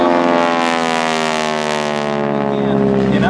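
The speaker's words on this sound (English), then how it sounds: "let's watch and listen to this pass of the B-17" A B-17G Flying Fortress bomber flies past at an air show, its four radial piston engines giving a loud, sustained droning hum with strong harmonic whine that bends lower as the plane passes.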